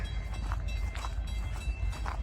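Norfolk Southern freight train passing near Walton, Kentucky, with a steady low rumble and rhythmic clacking of wheels over rail joints, fairly close.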